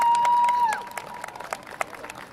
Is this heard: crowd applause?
yes